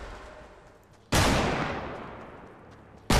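Gunfire in a Fortnite Battle Royale match: two sudden loud shots, the first with a long decaying tail, the second cut off at the end, over a quiet game background without talk.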